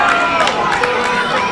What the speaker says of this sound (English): Eliciting some response from the crowd here at the Avalon Hotel in Erie, Pennsylvania.